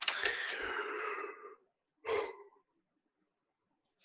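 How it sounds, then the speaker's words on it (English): A person on an online call yawns: one long, breathy, drawn-out exhale that trails off, followed by a shorter breathy sigh, close to the microphone and otherwise quiet. "Are you yawning?"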